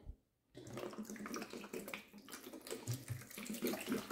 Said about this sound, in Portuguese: vou tirar esse soro e vou botar água gelada aqui na base da múltipla